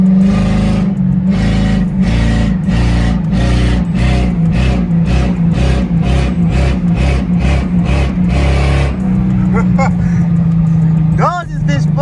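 A Ford Crown Victoria engine revs hard while driving, a series of loud repeated throttle bursts rising and falling in quick rhythm, then settling into a steadier drone with a few sharp chirps near the end.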